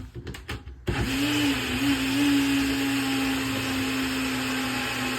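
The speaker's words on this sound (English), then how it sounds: "And then over here is the little blender." A small blender whirs into a steady, loud motor drone after a few brief knocks, running evenly to the end.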